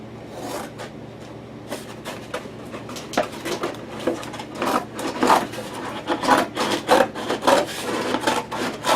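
Excess cardboard is cut away from a shipping box in a series of close, rasping, scraping strokes that grow louder and quicker, with sharp tearing bursts toward the end.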